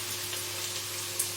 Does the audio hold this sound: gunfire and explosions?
no